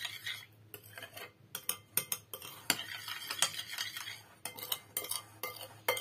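A spoon stirs a biscuit dough mixture with salt and sugar in a bowl, giving a quick run of close, crisp clinks and scrapes against the bowl in an uneven rhythm, with no one talking.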